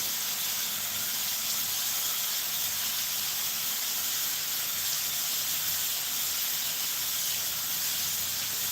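Pressurized air blows through an oven part being cleaned, producing a steady, loud, unbroken hiss that holds constant from start to finish with no voices.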